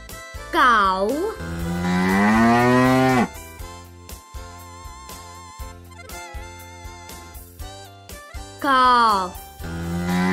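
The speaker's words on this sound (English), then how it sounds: "Cow." A cow gives a long, loud moo near the start and a shorter one near the end, both set against a gentle, steady music bed.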